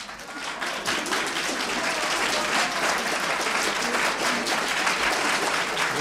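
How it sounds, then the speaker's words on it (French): An audience applauds for several seconds, dense sustained clapping from a full crowd, steady and loud throughout with no voices breaking through. "Je considère ces applaudissements comme une manifestation d'ironie"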